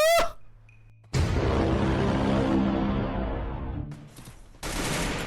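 Dense, sustained burst of rapid video-game gunfire, loud and close, rolling for several seconds before a brief pause and another loud burst; no talking.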